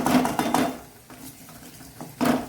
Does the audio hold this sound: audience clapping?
no